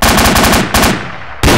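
Machine gun fire in the military shooter ArmA 2, a loud rapid burst of automatic shots, a pause with fading echo, then another shot starting, close and sharp.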